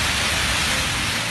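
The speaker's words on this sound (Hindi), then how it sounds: "मुल्क के मुख्तलिफ इलाकों में मानसून की बारिशों ने गर्मी का जोर तोड़ दिया है।" Steady monsoon rain falling in Jhelum, a dense, even hiss of downpour filling the air without a break, loud and close.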